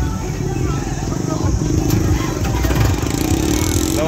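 Tractor engine running at a farmers' protest in Kurukshetra, Haryana: a steady, close mechanical rumble with clattering texture that swells slightly midway, heard beneath continuous crowd talk.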